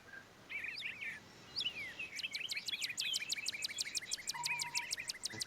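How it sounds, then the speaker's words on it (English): Loud birds sing outdoors, their rapid repeated chirps and trills ringing clearly and close, building into a dense, fast series of sharp calls over faint background hum. "Amazingly loud birds."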